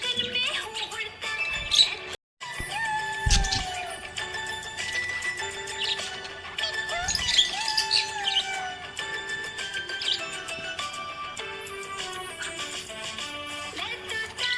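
A happy budgie chirps in quick, high warbling calls with scattered sharper tweets, close and steady throughout, broken once by a brief gap.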